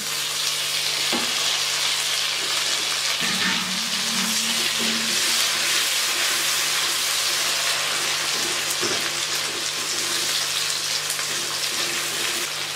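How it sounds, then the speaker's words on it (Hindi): Onion and tomato fry in a pan for a bharta, a steady broadband sizzle throughout with a few brief stirring scrapes and clatters, loud and close with no talking. "प्याज फ्राई हो गया है, पिंक हो गया है। अब इसमें मैं टमाटर डाल दूँगी।"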